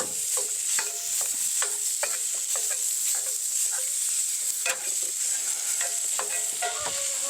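Sausage sizzles steadily in a Dutch oven over a camp burner at a state park, with a bright constant hiss broken by repeated scraping stirs.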